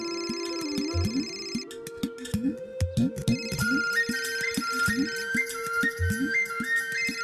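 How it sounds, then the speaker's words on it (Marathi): A melodic phone ringtone plays on, its tones repeating in a steady looping rhythm with no one talking. "फोन कोणाचा वाजतोय ग?"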